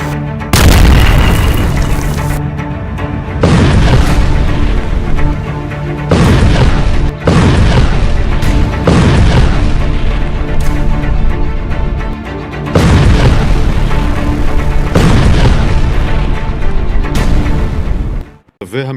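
Repeated heavy explosions from carpet bombing of large buildings, one deep booming blast after another with rumbling decay, loud and close, each burst rolling into the next with little pause.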